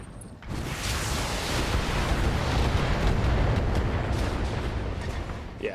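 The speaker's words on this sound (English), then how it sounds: "they're shooting me in the rear" A BattleTech mech takes fire from behind, with a tank in the attacking force. A sudden onset leads into a sustained, heavy roar of impacts and blasts that stays loud and steady throughout.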